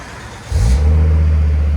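A 1996 Volvo 850R 2.3-litre turbocharged five-cylinder with an IPD turbo-back exhaust kicks up from idle into a deep, steady rev, the exhaust rumbling low and loud right up close.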